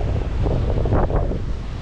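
Strong wind buffets the microphone on the windy side of a beach on Eleuthera in the Bahamas, a loud continuous roar with rumbling gusts and no voices.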